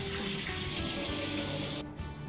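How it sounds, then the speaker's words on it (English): Hot water running steadily from a kitchen tap, a continuous close splashing rush that cuts off abruptly near the end. "Run some hot water."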